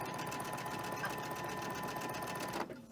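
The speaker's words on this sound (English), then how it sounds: "We're going to sew them the exact same way we did the other ones" A sewing machine stitching quilt fabric squares, running as a rapid, even mechanical whir with fast rhythmic needle ticks, close and steady, stopping abruptly near the end.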